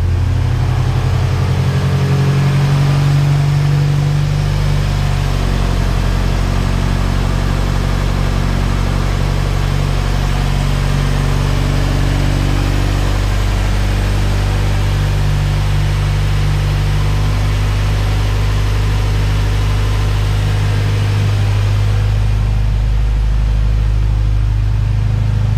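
A Honda B-series car engine, just started after valve stem seal work, idles steadily and loudly up close for a long stretch, a constant low drone with no talk.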